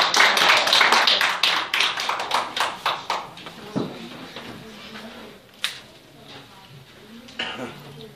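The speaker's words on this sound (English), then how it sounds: "let's give Brother Johnny a hand clap" A church congregation claps for Brother Johnny at a Sunday night service, starting as a loud burst of dense rhythmic clapping that thins into scattered claps and fades, with a few isolated claps and light murmuring near the end.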